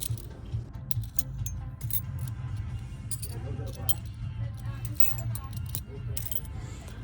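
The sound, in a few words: sorting through a pile of keys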